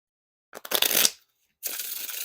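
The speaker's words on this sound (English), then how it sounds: "definitely no issues with the riffle shuffles or bridge shuffles" Bicycle playing cards are riffle shuffled twice, each a fast crisp flutter of cards slapping together, close up with a short pause between.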